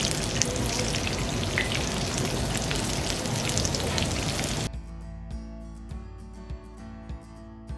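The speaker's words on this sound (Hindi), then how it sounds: "और आप स्कॉच एग्स को ज़्यादा हाई फ्लेम पे फ्राई नहीं करें, मीडियम लो फ्लेम पे इन्हें फ्राई करें" Scotch eggs deep-fry in hot oil over a medium-low flame, giving a loud, dense, steady sizzle that suddenly drops away to quieter crackling and scattered pops.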